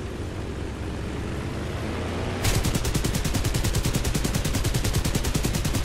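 Aircraft machine guns in War Thunder open up in a long, rapid burst of gunfire that starts abruptly partway through, loud and steady over a dull background rumble of engine noise.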